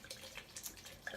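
Lillet aperitif wine poured into a pitcher, a brief soft liquid splash and trickle, close and quiet with no talking.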